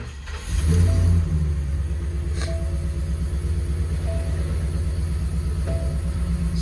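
A 2022 Ford E-350 cube van box truck engine cranks and catches with a brief rev, then settles into a steady, low, even idle rumble close by.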